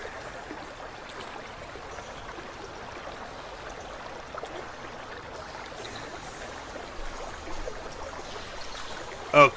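Water flows softly and continuously in underground tunnels in a video game, a low, steady rushing trickle with no voices.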